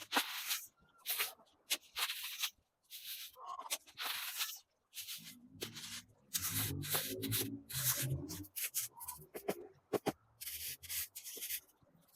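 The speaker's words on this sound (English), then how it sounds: "I'm just smoothing the gravel over top of the soil" Gravel being smoothed by hand over soil in a small patio pond, a close rubbing, scraping scrunch in irregular strokes with short gaps, some heavier shifting of stones midway.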